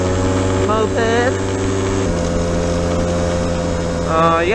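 A small engine idles with a steady, chugging rumble, while voices speak briefly over it.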